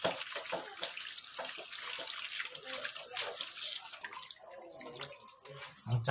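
Freshwater algae being rinsed by hand in water, with splashing, swishing and trickling sounds close by, irregular and moderately quiet.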